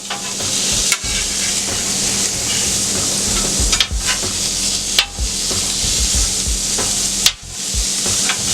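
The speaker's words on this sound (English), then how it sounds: "Let me throw the burgers on here." Burgers sizzling on a Steelmadeusa grill, a loud, dense, continuous sizzle close up, with a few brief breaks and shifts as the patties settle.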